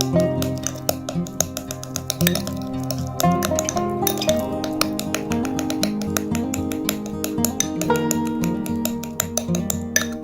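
A spoon clinks steadily against a bowl while aloe vera gel is stirred into a cosmetic mixture, bright repeated taps close by, over a continuous background of music.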